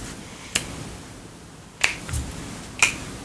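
Three crisp finger snaps ring out alone in a quiet room, spaced about a second apart, sharp and close, with no talk over them.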